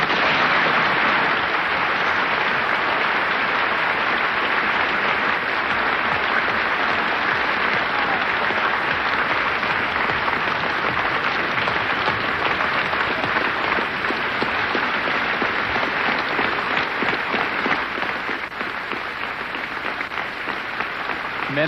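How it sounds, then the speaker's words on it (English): An audience at a debating union stands and applauds a speech, a loud, dense, unbroken roar of clapping that fills the whole stretch and tapers slightly near the end. "the whole of the Union standing and applauding this magnificent speech of James Baldwin"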